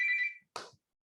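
A phone rings in two short electronic bursts separated by a brief gap, close and clear, with silence following and no voices.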